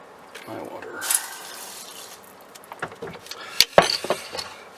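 Water poured into a pot of rice, a short trickling splash amid light clinks and handling noises, close by and fairly quiet.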